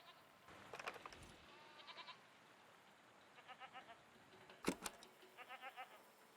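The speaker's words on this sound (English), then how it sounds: "What are these strange goat-like creatures? Are they simply goats?" Goat-like creatures bleat in the game Season: A Letter to the Future, several short, quiet bleats coming in small clusters with gaps between them, and a sharper bleat near the end.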